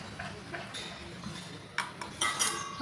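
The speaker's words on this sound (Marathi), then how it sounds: "हे पहा, अशा पद्धतीने आपण वड्या पाडून घेणार आहोत." Sesame seed bars (til vadi) being cut into pieces make a few soft knife taps and clinks against a plate, with sharper scraping and clattering near the end, close and fairly quiet.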